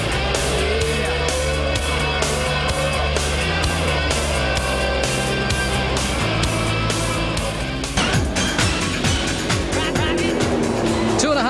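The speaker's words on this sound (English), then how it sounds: "This is Group A touring car action, live from the Gold Coast during the Bartercard Indy Carnival 96." Group A touring cars racing at the Gold Coast Indy Carnival in 1996, engines roaring loudly and continuously with rising and falling revs as cars pass, a broadcast commentator talking over the racing.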